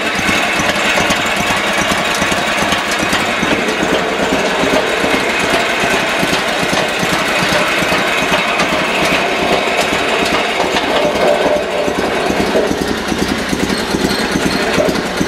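A Sears Suburban SS16 snowblower engine at slow idle, with a loud, close, steady chugging rumble and rapid irregular knocking throughout.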